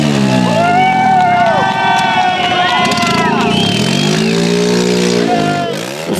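A homemade motorcycle trike with its muffler fallen off roars loudly and steadily with a raw, unmuffled exhaust, revving and shifting in pitch, while a crowd murmurs and cheers in the background.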